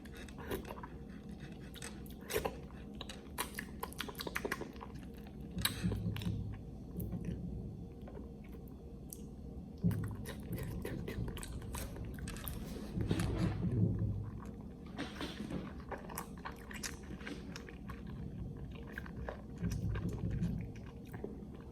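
Korean jelly chewed close to the microphone in an ASMR eating session, giving continuous soft, wet squishing and biting sounds with occasional louder crunchy bursts and no talking.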